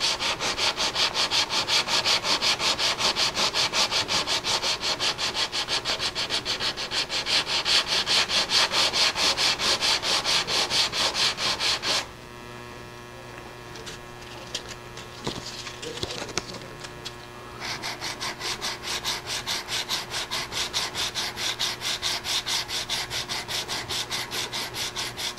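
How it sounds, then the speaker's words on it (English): Sanding a wood surface level over protective masking tape, a steady close scratchy rubbing that runs for about twelve seconds, pauses with a few light knocks and handling sounds, then resumes at the same strength. "We'll sand this level."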